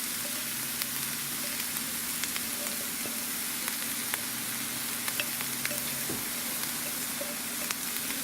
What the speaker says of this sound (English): And now just stir all that in and let that all heat up.